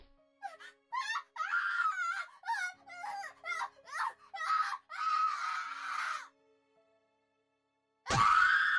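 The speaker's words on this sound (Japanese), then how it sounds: "凄まじい音波のような叫び声" A terrible, piercing scream in the horror video game Corpse Party: a string of wailing, moaning vocal bursts over about six seconds, then a sudden loud, harsh shriek after a short silence.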